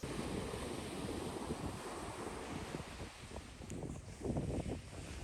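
Ocean waves wash onto the beach at Virginia Beach with a continuous rushing surf and wind noise on the microphone, and a few louder surges build near the end.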